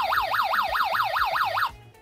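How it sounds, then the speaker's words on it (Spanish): A carbon monoxide detector in a homemade motorhome sounds a loud, rapidly warbling electronic alarm that rises and falls about six times a second, close and alone, then cuts off abruptly. "Si hubiera un nivel de monóxido peligroso, esto lo detecta y sonaría esta alarma"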